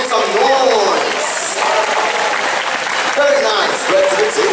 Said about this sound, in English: All you have to do is clap your hands and stomp your feet.